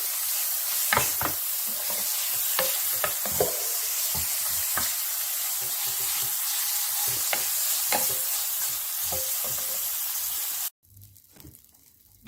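Garlic fries for pad thai in a pan with a steady hiss, punctuated by frequent scraping and clicking strokes of a stirring utensil, until the sizzle abruptly stops and only faint room sound remains.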